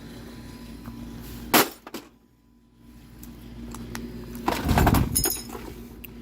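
The glass plate of an HP DeskJet Plus 4152 printer shatters during a deliberate smashing, a sharp crack followed by a loud crunching burst of breaking glass and clinking shards.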